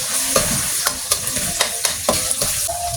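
Carrots stir-fried in a pan for bihon gisado, a steady sizzle with rhythmic scraping strokes of a utensil every few tenths of a second, close and loud with no talking.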